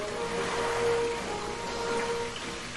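Air bubbles through the water lines of a newly installed radiant floor heating system, a steady close gurgling, hissing wash of water with a faint tonal hum underneath and no talking.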